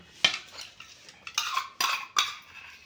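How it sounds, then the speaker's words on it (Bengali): A spoon clinks and scrapes against a bowl while soya chunks are mixed, giving a series of sharp taps and short scraping strokes at close range. "সয়াবিনটা আমি মাখিয়ে নেব"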